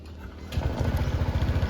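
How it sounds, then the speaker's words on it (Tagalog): A motorcycle engine starts up and settles into a steady, rhythmic idle, close and fairly loud, with no talk over it. "Start na natin yung motor natin."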